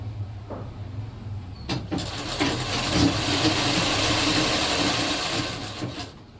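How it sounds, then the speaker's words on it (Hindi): A sewing machine runs a double line of stitching on a kurti, starting after a couple of clicks and then whirring steadily and loudly close by, with no talk over it. "डबल सिलाई चला रहे हैं मजबूत होने के लिए।"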